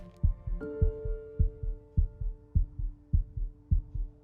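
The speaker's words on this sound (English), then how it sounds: "You hear my heartbeat?" A steady thumping heartbeat from the video game Before Your Eyes, about a dozen paired lub-dub beats in an even rhythm, close and clear, with a soft sustained tone humming underneath and no talking.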